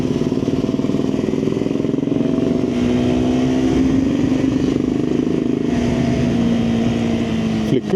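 A 2026 KTM 390 Adventure (350cc) adventure motorcycle threads through traffic with a steady, loud engine drone and rising-falling revs close by, wind and road noise mixed in.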